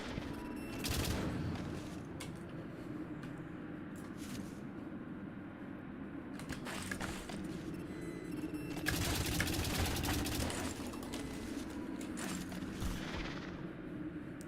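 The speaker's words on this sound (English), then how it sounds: "Stop shooting at me." Video game gunfire in a tense shooter, sustained machine-gun bursts and heavy volleys rolling on and off, fairly loud and dense, with no talking over it.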